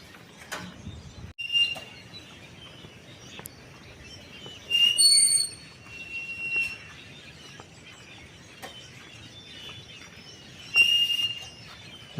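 Faint birds call in quiet countryside, giving thin whistles and a few short chirps in scattered bursts. One clearer call rings out near the end.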